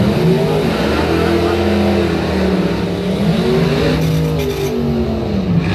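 A Dodge drag race car roars down the strip at a bracket points event, its engine loud and sustained as it accelerates hard, with the pitch climbing and dropping through gear changes and an announcer's voice running beneath.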